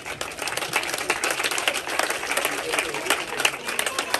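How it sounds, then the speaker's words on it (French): Applause from guests at the opening of a photo exhibition on sport, individual claps clearly audible in a moderate, uneven patter that stays fairly close. "bravo Alain, on peut l'applaudir aussi"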